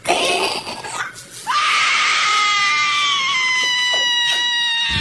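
People screaming in a depiction of hell, loud anguished shrieking and wailing that briefly dips, then swells into a sustained high scream, heard alone.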